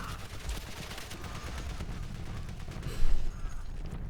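World War I gunfire in the game Valiant Hearts: The Great War: dense crackling volleys and rapid rifle or machine-gun bursts blend into a continuous rattling din, with one louder burst near the end.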